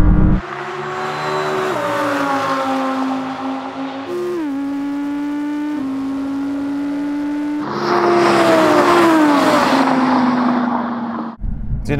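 An Audi R8 GT in a drag race screams hard and loud off the line. Its engine note climbs through several sharp gear changes, and a second R8 roars alongside it.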